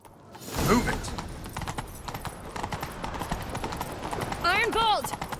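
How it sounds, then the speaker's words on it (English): Horse hooves clip-clop at a steady gallop in The Witcher 3 video game, close and fairly loud, with a brief neigh near the end and characters talking over the running. "Grab a horse, we'll chase him down."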